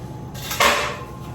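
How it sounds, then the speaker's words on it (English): A short clatter of something hitting a hard sink surface, one sharp knock against a low background hum. "Drop that in the sink if you're wondering what that sound was."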